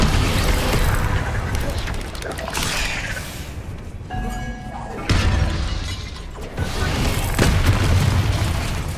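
Spell explosions from Bombarda and Confringo in Hogwarts Legacy, heavy booming bursts and shattering crashes filling most of the stretch with a brief quieter gap midway, loud and dense.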